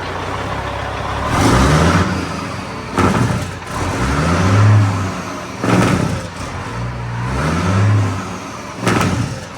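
A truck fitted with new Lincoln exhaust stacks revs hard in repeated deep surges, each bark rising and falling back to a rumbling idle, loud and close, about four pulls in succession.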